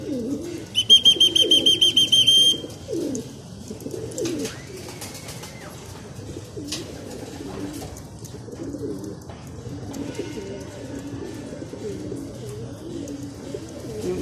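Racing pigeons return from a training flight, giving soft cooing and a few chirps close by, with a burst of sharp rapid chirping near the start over low background rumble.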